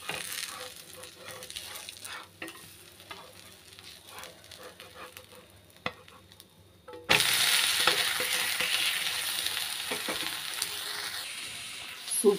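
Wheat rava adai dosa frying in oil on a hot pan, a steady close sizzle that jumps sharply louder after a brief quiet stretch, as the dosa is flipped, and then crackles on loudly to the end.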